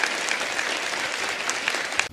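Sustained audience applause for a singer on the Indian Idol stage, a dense, steady wash of many hands clapping at even loudness throughout.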